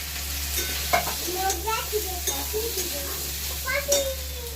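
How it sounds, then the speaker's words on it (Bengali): Fried potato and eggplant pieces are tipped into a pan and stirred, giving soft sizzling under irregular scraping and knocking strokes of a spoon against the pan. "এবারে আমি যে আলু বেগুনটা ভেজে রেখেছিলাম এর মধ্যে আলু বেগুনটা এবার দিয়ে দেবো।"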